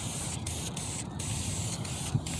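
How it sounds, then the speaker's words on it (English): A continuous hiss of an aerosol rust converter spraying close up onto a car part, broken by a few brief pauses, with no voices. "Spray until it starts dripping."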